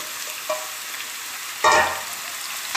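Carrots frying in hot oil with garlic and spices, a steady close sizzle broken by a louder burst as they are stirred around the pan.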